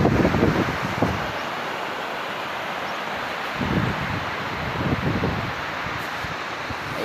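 Steady wind roars across a microphone at Basud Beach near a highway, a constant broadband rush with low gusty swells and faint traffic underneath.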